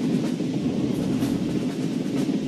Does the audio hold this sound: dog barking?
no